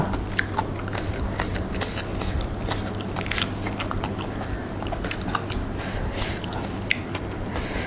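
Close, steady crunching of crispy pork belly being bitten and chewed, with dense crackly bites repeating throughout and no talking.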